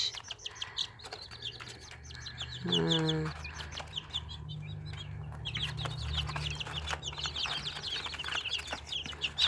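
Month-old chicks, about twenty-five of them, in a raised brooder, cheeping in dense high chirps throughout, with a brief rooster-like call and a low murmur underneath.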